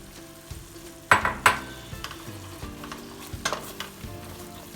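Fresh green beans sizzle in hot olive oil with a steady crackle, joined by a couple of loud clanks and scrapes of a utensil stirring the pan.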